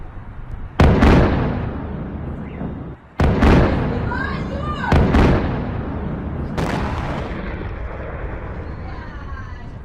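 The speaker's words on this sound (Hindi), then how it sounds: "रूसी मिसाइल गिरने से जोरदार धमाका हुआ।" Several loud, booming blasts from Russian missiles striking Kyiv hit in quick succession, each with a sharp onset and rumbling tail, followed by lingering roar and distant noise.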